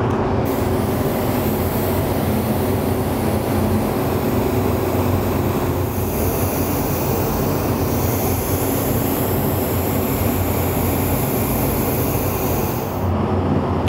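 Spray gun hissing steadily as candy paint is laid along a tape line for a checkered-weave graphic, the nozzle fan closed down tight; a close, continuous airy spray lasting nearly the whole stretch.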